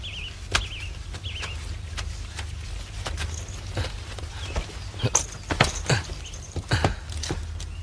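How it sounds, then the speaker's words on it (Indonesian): A horse's hooves clip-clop in irregular steps at a moderate distance, mixed with scattered sharp knocks and rustling. "Pamin, berikan kuda itu kepada orang ini."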